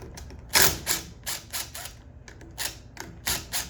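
A ratchet works loose the 10 mm clutch cover bolts on a Kawasaki KLX140 engine, giving several short bursts of clicking spaced unevenly across the clip. The clicks are close and fairly quiet, and no one speaks.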